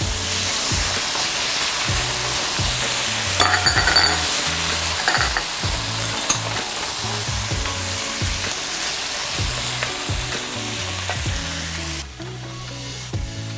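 Fire roasted crushed tomatoes cooking in a pan for pasta alla puttanesca, with a loud continuous sizzle broken by repeated scraping stir strokes and clatter throughout.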